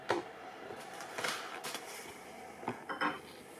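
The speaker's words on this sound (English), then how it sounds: "Let's first close our pots." Small pots of diorama material for a 1/35 scale desert diorama base are closed in a few quiet clinks and clicks, scattered irregular taps of lids and containers with no voices.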